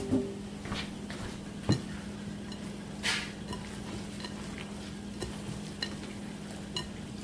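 Cornbread dressing mixture with butter, onion and celery being mixed by hand, soft wet squishing and occasional light knocks against the dish over a steady low background hum, with no talk.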